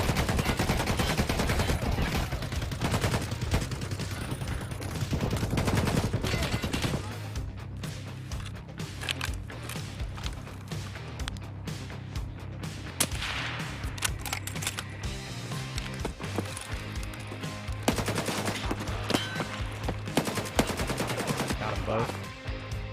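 Shoreline map of Escape from Tarkov in a trio battle: loud rapid bursts of automatic gunfire and single shots crack close by in the opening seconds, then scattered, more distant shots follow with faint voice chat underneath.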